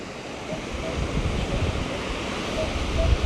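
Ocean waves wash onto a beach in a steady roaring surf, loud and close with gusty wind buffeting the microphone and a faint detector tone pulsing over it.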